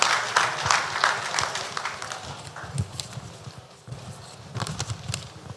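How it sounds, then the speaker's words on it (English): Audience applause at a road safety memorial event, a moderate patter of many hands, loud at first then fading, with a second smaller swell near the end. "Can we give him a round of applause?"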